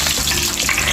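Four green chillies hit hot oil already holding fenugreek seeds for a Kerala-style fish curry, setting off a loud, close, steady crackling sizzle that fills the whole moment.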